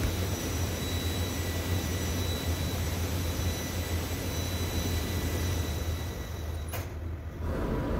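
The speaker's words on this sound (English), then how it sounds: "Carry out soot blow at least once a day during voyage." A ship's boiler economizer soot blower runs during a voyage, giving a steady, loud, broadband roar that holds through the whole stretch with only a brief change near the end.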